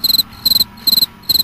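Cricket chirping in quick bursts of about four rapid pulses, each burst repeating roughly every 0.4 seconds, fairly loud and close over a faint low background hum, with no talking.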